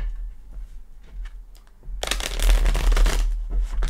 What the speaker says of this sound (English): couple shuffles